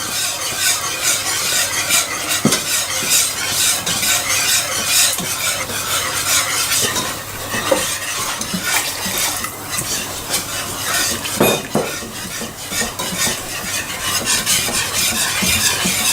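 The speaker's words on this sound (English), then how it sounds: "Alia is using the whisk here because what she doesn't want is she doesn't want any lumps in there" A whisk stirs roux in a pan in quick, steady scraping strokes close by, with a faint sizzle underneath and no talking.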